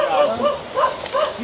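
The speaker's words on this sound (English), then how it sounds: "Hear she bark there." A dog barks and yips in short bursts outdoors near a tree, mixed with people talking over it.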